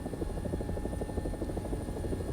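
An AB 205 A-1 helicopter, an Italian UH-1H, in a video game, with a steady rotor chop and engine drone held at an even level throughout, moderately quiet and with no voices.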